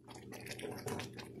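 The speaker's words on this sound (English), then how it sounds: "bubbles flipping, the bubbles plopping. Look at that, it's cooking." Jamaican cornmeal porridge made with coconut cream simmering in a pot, giving off a steady, moderately loud wet bubbling and plopping with broadband liquid texture and no talk over it.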